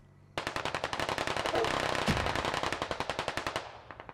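Machine-gun fire in the shooter game Squad: a long, rapid, evenly spaced burst of automatic shots lasting about three seconds, close and loud, tapering off into a few final rounds.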